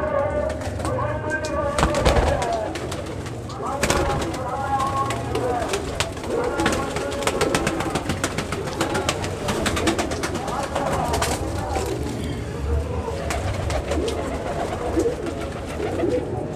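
Pigeons coo softly and repeatedly amid a busy flock, with wing flutters and scattered sharp knocks throughout.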